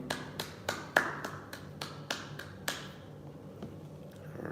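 Congregation clapping in unison during a Sabbath service, a steady run of about nine sharp, evenly spaced claps that ring in the room before fading into quiet.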